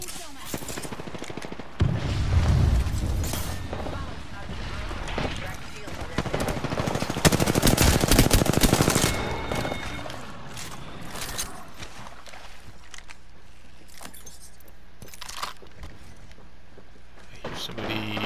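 Bursts of video-game gunfire, with loud automatic rattles and heavy volleys swelling around the middle before thinning to scattered shots, while players talk over the shooting.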